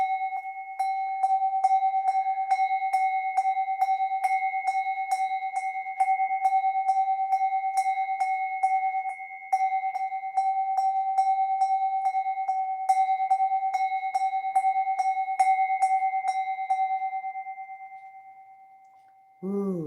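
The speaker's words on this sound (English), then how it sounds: "I'm ringing the bell and she's actually coming in." A bell rung steadily and repeatedly to call a cat indoors, a bright ringing tone with a clear rhythmic strike pattern lasting nearly twenty seconds, fairly close and alone.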